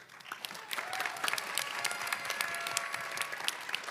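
Applause from an audience's cheering section, dense steady clapping that builds quickly and carries on for several seconds at a moderate distance.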